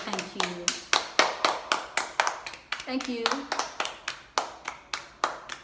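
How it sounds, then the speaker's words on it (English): Steady, regular hand clapping, close and crisp, repeats at an even beat through the whole stretch while someone briefly speaks and thanks someone over it. "please give me a clap"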